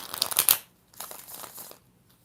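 Tarot cards shuffled by hand in a few quick riffling, crinkling bursts, a louder flurry at the start and a softer one after a pause, heard close up and with no talk.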